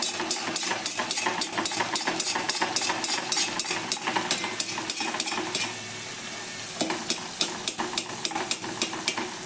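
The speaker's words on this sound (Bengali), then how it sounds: "এবার আমার তেলটা গরম হয়ে গেছে। এবার আমি কচুরিগুলোকে ছেড়ে দেবো এর মধ্যে।" Pea-stuffed kachori pastries sizzle in hot oil, a loud, close, continuous frying hiss with frequent sharp taps and scrapes of a utensil stirring in the pan, and a brief quieter stretch midway; no voices.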